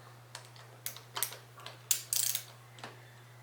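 A ratchet with an 18 mm socket turns a spark plug on a Honda BF50 outboard, giving faint irregular clicking bursts over a low steady hum.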